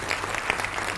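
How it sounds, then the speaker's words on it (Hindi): Studio audience applauding on a televised political debate show with students present, a steady dense wash of clapping heard alone, no talk over it. "तालियों के साथ आपका अभिनंदन"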